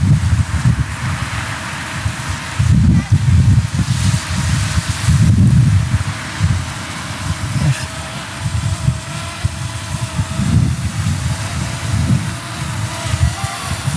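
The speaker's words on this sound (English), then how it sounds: "it's a little bit windy, as you can probably hear." Gusty wind buffets the microphone in loud, low rumbling surges that rise and fall over a faint steady background hum.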